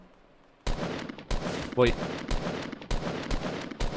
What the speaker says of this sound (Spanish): Disparos en frente